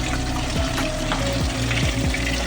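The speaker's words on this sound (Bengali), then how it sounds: "বাকি মাছগুলো ঠিক একইভাবে লাল লাল করে ভেজে নিতে হবে" Spice-marinated fish pieces fry in hot oil in a pan, a steady loud sizzle with repeated scraping stirs running throughout.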